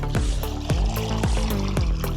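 Close, wet splashing and plopping as water is mixed into thick curd for a homemade plant tonic, about five sloshing strokes in quick succession with no voices.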